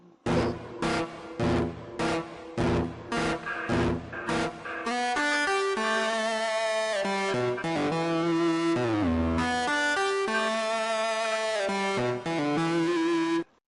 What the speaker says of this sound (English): this is known as the electric guitar